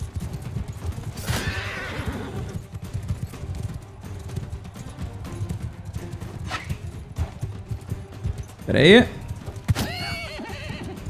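A horse in the medieval combat game Mount & Blade 2 Bannerlord gallops with steady hoofbeats under someone talking, then lets out one loud, shrill neigh near the end, followed by a clatter.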